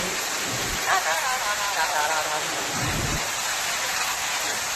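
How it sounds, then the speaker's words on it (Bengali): A hailstorm with heavy rain during hot weather pours down as a dense, steady roar of falling water, with a few heavier thuds and surges standing out. "পাথর পড়ছে, জোর শিলা হচ্ছে, শিলা বৃষ্টিতে শিলা পড়ছে"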